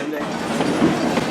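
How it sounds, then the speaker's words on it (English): A heritage train runs on its rails at Greenfield Village with a steady, loud rolling rumble and clatter. Faint rhythmic wheel knocks are heard close by throughout. "Ladies and gentlemen, we're now approaching our first train stop"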